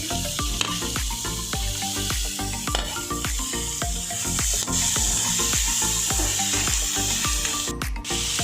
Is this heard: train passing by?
no